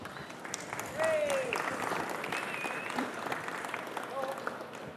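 Steady audience applause fills a conference hall as two speakers, a Motability Operations support director and the managing director of Callum Designs, are welcomed to the stage, with a few faint voices and whistles mixed into the clapping.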